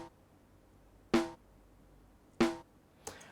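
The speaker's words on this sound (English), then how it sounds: "single drums, snares, electronic snares," Logic Pro electronic snare drum sample D125 struck twice alone, each a crisp bright hit with a short tonal body, followed by a fainter third hit.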